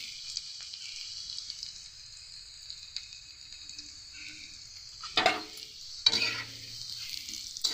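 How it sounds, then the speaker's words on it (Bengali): Onions fry in a pan of oil, a soft steady sizzle with occasional louder scraping stirs of a spatula, no talking. "পেঁয়াজটা একটু আমরা হালকা লাল লাল ভাব করে ভেজে নেব।"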